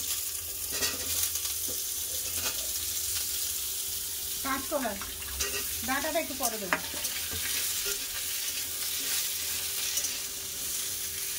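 Potatoes and papaya fry in a pan, a steady broadband sizzle running throughout with a few stirring scrapes, while someone speaks briefly in the middle.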